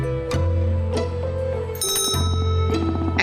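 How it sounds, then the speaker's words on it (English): Kiosk bell rung in the video game Wyrmhall, a bright metallic ring with a long sustained tone that comes up once midway over a steady musical background drone. "This is the kiosk bell. Ring this bell when you're satisfied with your work."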